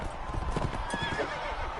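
Horse hooves clip-clop in a quick, steady rhythm in the Mount and Blade Warband video game, loud and close, with a faint whinny mixed in.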